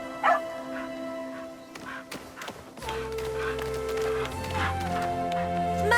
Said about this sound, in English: Mother, we found an obedient dog.